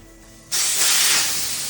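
Air bursts out of a Honda CR250 front tire as the valve stem is pulled, a sudden loud hiss that starts abruptly and stays strong and steady, close up with no voices.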